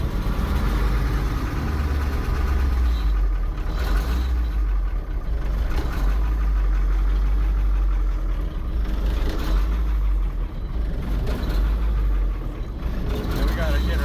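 A 1974 Dodge V8 diesel semi truck idles with a deep, loud, steady rumble, close by, while people talk over the engine throughout.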